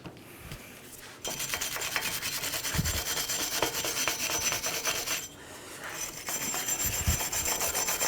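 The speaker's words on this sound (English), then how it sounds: "little residual rust here that we're going to clean up with a wire brush" A wire brush scrubs residual rust off the front brake hub of a 2011-2017 Honda Odyssey, a steady close rasping scrape that continues in two long bursts with a short pause between them.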